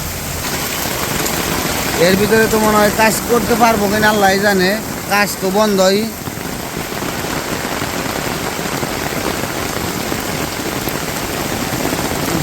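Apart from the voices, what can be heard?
heavy rain falling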